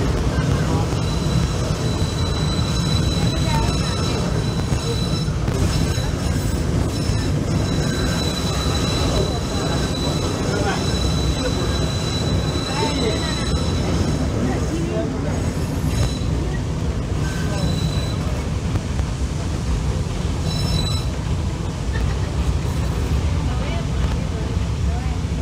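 The Nilgiri mountain train runs downhill from Coonoor to Mettupalayam with a steady, loud rumble and rattle from inside the carriage. Wheels squeal now and then, and faint voices are mixed in throughout.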